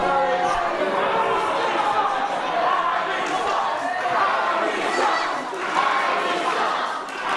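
Wrestling crowd at a UKPW show chanting loudly in unison against a wrestler, a dense roar of many voices filling the venue, with a commentator talking over it.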